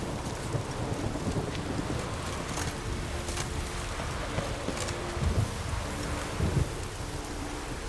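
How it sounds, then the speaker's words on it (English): Steady rain with rolling thunder in a thunderstorm inside The Witcher 3: Wild Hunt, a continuous wash of downpour with low rumbling swells and a few heavier booms near the middle and end, no voices. "Storm, damn it."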